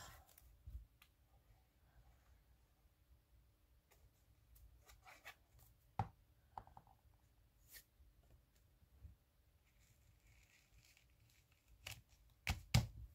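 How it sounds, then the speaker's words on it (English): Scissors snip through patterned craft paper for a banner, making scattered short crisp cuts and rustles at close range, faint and intermittent with quiet gaps between. "Makes it hard to cut these papers, but when you do, you can create beautiful stuff."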